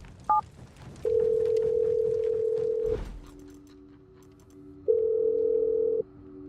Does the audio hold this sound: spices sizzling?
no